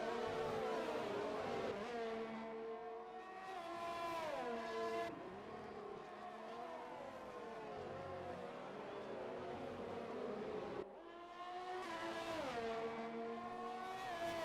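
Race cars in an XRL X1 series race at the Canada round roar past one after another, engines revving with rising and falling pitch as each approaches and recedes, a continuous loud stream of passing cars.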